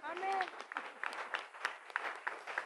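A church congregation claps together in a quick, steady rhythm, with sharp claps repeating throughout and a voice calling out over them at the start.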